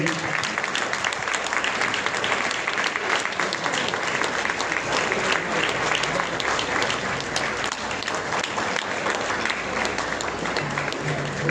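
Sustained applause from a large audience at a Tamil public gathering, a steady dense wash of clapping lasting the whole stretch, with faint voices mixed in beneath it.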